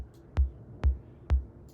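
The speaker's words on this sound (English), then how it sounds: "So it's just a kick drum because I wanted to make something trancey." Three evenly spaced electronic kick drum thumps with a deep low punch, repeating steadily over a faint background hum.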